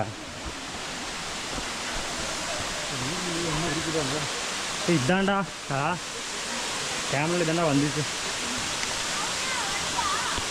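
Kiliyur waterfall in Yercaud, Tamil Nadu, roars as a steady broadband wash of falling water, loud and continuous throughout, with several people talking over it in short bursts.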